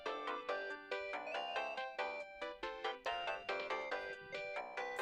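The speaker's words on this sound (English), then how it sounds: "The sound of the phone ringing." A phone rings in the visual novel game Steins;Gate 0, a loud melodic electronic ringtone repeating in quick, evenly spaced bursts throughout.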